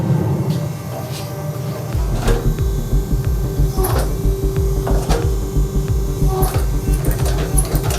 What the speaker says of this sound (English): use the squaring dies to forge weld all 4 pieces together, pushing in on all sides at the same time